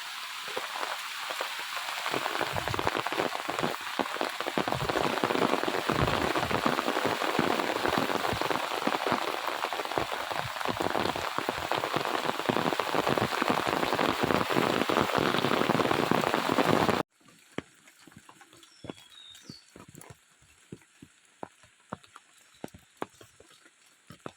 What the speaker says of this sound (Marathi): आता हा बघा पाऊस